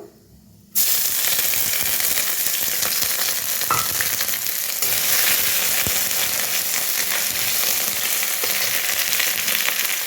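Ginger sizzles in a pan with spice paste, a loud, steady frying hiss that bursts in after a brief quiet moment and carries on without a break.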